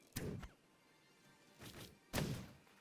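An enemy landing hits on the player character in the Outward video game: two or three dull, heavy thumps spaced apart, moderately close, with no talking.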